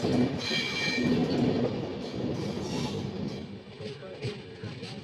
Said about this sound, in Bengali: এটা ট্রেন আসছে, এটা সম্ভবত কোয়েম্বাটুরের দিকে যাবে।